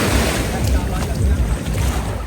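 Sea waves on an Arabian Gulf beach in Dubai at sunset, a steady wash of surf and wind rumble close by, with a voice talking over it.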